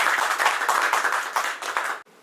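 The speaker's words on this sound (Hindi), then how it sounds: "इनके लिए एक जोरदार ताली बजाएं सभी लोग" An audience at a poetry and shayari gathering in Banaras claps loudly together, a dense burst of applause lasting about two seconds before cutting off abruptly.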